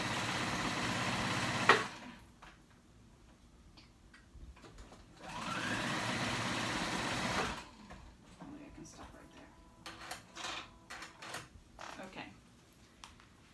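A sewing machine stitches through three layers of fabric for a petal top, running in two steady whirring bursts of a few seconds each, separated by pauses with quieter handling clicks.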